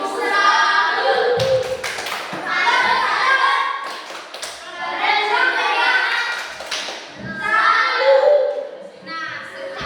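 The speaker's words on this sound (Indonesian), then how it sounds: "Tepuk tangan untuk kalian dulu." Schoolchildren clap together in a classroom in repeated bursts of rhythmic hand clapping, close and lively, alternating with a teacher's voice speaking in between.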